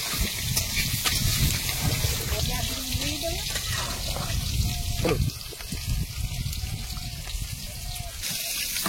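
Water gushes into a pot of braised meat during a village cooking session, a steady pouring and splashing sound that runs for several seconds while people talk in the background.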